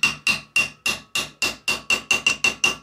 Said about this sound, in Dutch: Hamertje.